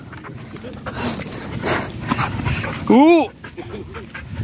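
A dog playing outdoors gives a sharp, loud bark or yelp near the end, amid faint whines and rustling, with a person talking over the scene.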